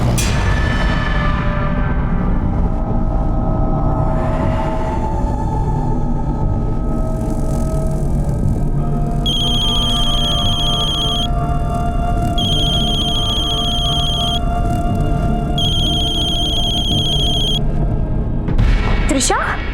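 A telephone rings in three long electronic trills with gaps between, sounding over a rumbling, noisy background with low murmurs; nobody picks up.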